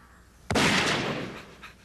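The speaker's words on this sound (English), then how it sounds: "A gunshot? Really?" A single gunshot sound effect in an animated movie, a sharp, loud crack that bursts suddenly and then rings out in a fading, rumbling echo lasting over a second.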